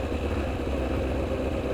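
A Kawasaki ZX-9R motorcycle engine runs under a touch of throttle, a steady close-up drone and rumble lasting the whole brief moment.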